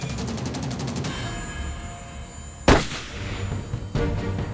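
A rifle shot cracks once, loud and close, during a deer hunt on the plains of eastern Colorado, with a sharp burst and a short decay. A second, weaker report or impact follows about a second later over steady outdoor background noise.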